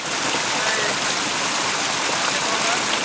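Huai Mae Kham waterfall near Thoet Thai in Mae Fa Luang, Chiang Rai, sends up a steady broadband rush of falling, flowing water, constant and close throughout.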